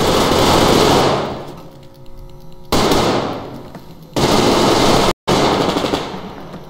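Heavy gunfire in the Survarium video game, with three loud booming shots spaced a second or more apart, each ringing out and decaying with a long echoing tail.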